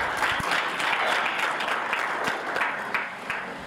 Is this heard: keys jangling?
no